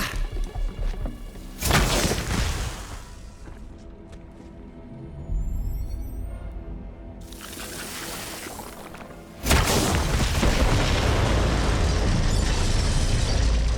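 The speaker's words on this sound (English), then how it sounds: "The explosion echoed through the forest, and those devil riders didn't even get a chance to hit the brakes." Bombs detonating in a forest in the video game Borderlands 3, two loud booming blasts several seconds apart, each trailing into a long rumbling roar, with quieter mechanical sounds in between.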